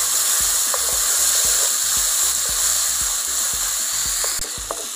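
Tomatoes fry and soften in a pan for a drumstick leaf soup, giving a loud, close, steady sizzle with faint clicks and stirring taps throughout.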